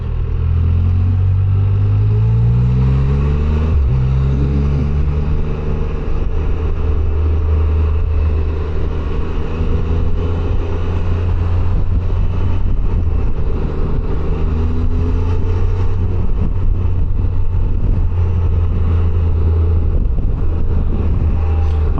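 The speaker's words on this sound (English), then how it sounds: "this engine actually, it makes a pretty good engine noise" A 2025 Can-Am Canyon's engine hums steadily while riding, a moderately loud, continuous mid-pitched drone that rises in pitch through gear changes early on, with wind and road noise throughout.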